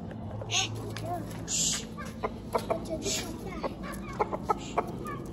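Chickens in a poultry pen clucking close by, with short bursts of calls and scattered pecking taps while people talk in the background.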